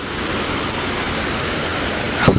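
An artificial waterfall on top of a green hillside in Qatar pours in a steady, broadband rush of falling water, loud and continuous, with a brief brighter splash or wind gust near the end.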